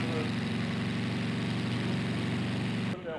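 A model aircraft engine at a fun-fly event in Beckum, Germany runs at a loud, steady buzzing drone close by, then drops away suddenly just before the end.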